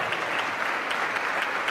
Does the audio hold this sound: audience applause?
yes